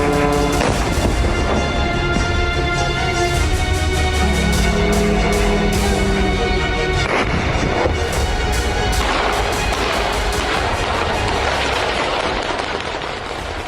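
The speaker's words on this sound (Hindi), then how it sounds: "ड्रोन के बिल्डिंग से टकराने के बाद बड़े धमाके हो रहे हैं" Large explosions from kamikaze drones striking residential buildings in a Russia–Ukraine attack, a loud, dense barrage of booms and cracks rolling continuously with sharp impacts near the middle and no speech.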